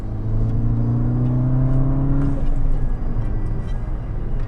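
A VW MK6 GTI with an ECS dog bone mount insert pulls in third gear from 40 mph, the engine droning loud and rising in pitch before easing off, heard from inside the car with no talk.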